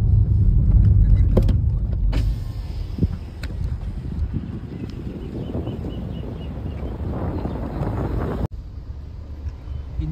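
Steady road rumble of a car driving on petrol, with low engine drone and wind buffeting throughout, a brief dropout near the end.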